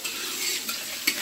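Goat and chicken meat fry in a pan for a birthday feast, a steady soft sizzle with occasional scrapes and clinks from a stirring utensil, close and fairly quiet.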